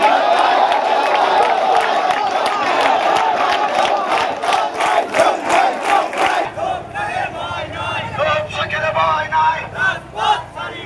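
Crowd of BNP activists at a rally in Sujanagar, Pabna, loudly chanting slogans in rhythmic unison, close and dense, with engine-like rumble beneath in the later part.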